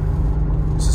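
Brakes applied on a used car during a test drive at an auto auction, a loud steady low rumble of the moving vehicle with a brief higher hiss near the end, no talking.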